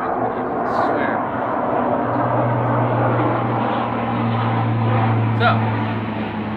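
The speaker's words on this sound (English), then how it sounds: "cursed with that plane every time I try to make a video, I swear." An airplane passes overhead outdoors, a steady broad engine drone with a low tonal hum running loud through the whole stretch, continuous rather than rising or fading, and no clear speech over it.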